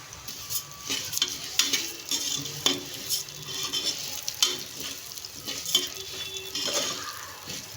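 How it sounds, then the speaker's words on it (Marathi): Cracked wheat is tipped into hot oil in a pan and stirred, giving a steady sizzle with scraping strokes and occasional clinks of a spoon against the pan. "गव्हाचा भरडा टाकून घेऊ. तेलाऐवजी तुम्ही इथे तुपाचा पण वापर करू शकता."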